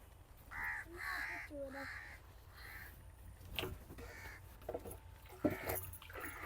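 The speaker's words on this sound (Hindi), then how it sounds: "कौवा बोल रहा है।" Crows caw repeatedly beside a sugarcane field, several harsh calls spread over a few seconds against soft outdoor background noise, fairly faint and distant.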